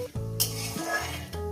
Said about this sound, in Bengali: জিরে ফোড়নটা কয়েক সেকেন্ড একটু নাড়াচাড়া করে নেব